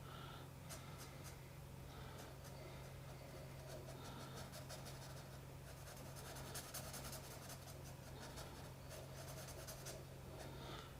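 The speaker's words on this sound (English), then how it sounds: "I'm going to use the fine nib to get the shadow in, because that still will be darker" Fine-nib pen scratching and rasping across paper while shading shadows on a drawing, a steady close-up scritching texture over a faint low hum.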